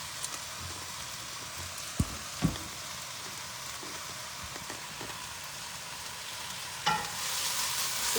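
Chopped onions frying over medium-high heat in a pan for chana masala, a steady low sizzle with a few light stirring knocks and scrapes, heard alone and close.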